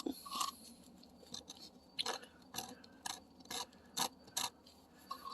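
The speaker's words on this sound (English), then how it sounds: "Scrape this off as much as possible." Excess epoxy resin being scraped off a piece, a series of short rasping scrapes in an uneven rhythm, quiet and close with pauses between strokes, no talking.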